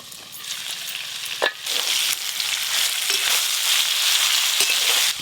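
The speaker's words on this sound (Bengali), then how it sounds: "চাপা খুলে একবার ফুলকপিগুলো নেড়ে দেব।" Cauliflower frying in an uncovered pan is stirred, giving a steady loud sizzle with a few sharp spatula scrapes and knocks against the pan, with no voices.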